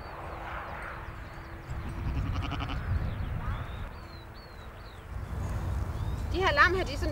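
Sheep and day-old lambs bleat on a farm, with several short wavering calls near the end and a few fainter ones earlier, over steady outdoor background noise.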